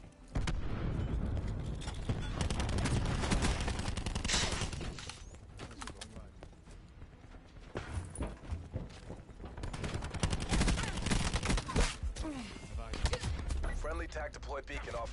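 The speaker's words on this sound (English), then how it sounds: "Throwing cluster grenade." Cluster grenade blasts in a first-person shooter, a run of rapid overlapping explosions and gunfire in loud surges, with game voice lines heard between them.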